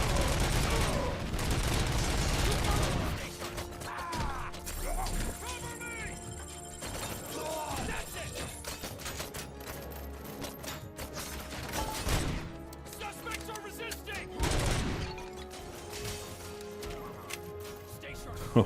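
Gunfire in the video game Robocop: Rogue City, loud bursts of rapid shots mixed with mechanical clatter and game effects, with a voice talking over it.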